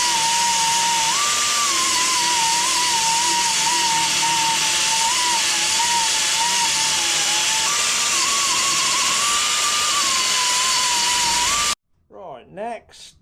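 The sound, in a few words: grinder shaping a metal part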